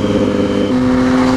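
Motorcycle exhaust from a Triumph Street Triple or Ducati 959 Panigale, a loud, close, steady engine drone whose pitch holds then steps slightly, without talk.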